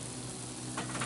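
Flour stirred into melted butter in a pan for a roux, a soft continuous sizzle with gentle scraping strokes from the spoon, close and steady throughout.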